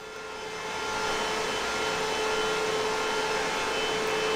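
A Bitdeer Sealminer A2 bitcoin miner powering up: a steady, loud fan whoosh with a faint tonal hum that swells over the first second, then holds constant with no voices.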